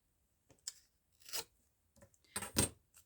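Scissors trimming paper for a handmade double pocket craft project, heard as a few short, crisp snips and rustles spaced apart, close and fairly quiet with no talking.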